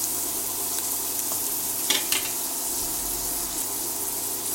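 Onions fry in a pan for a green gram curry, a steady close sizzle with a couple of brief scraping stirs partway through.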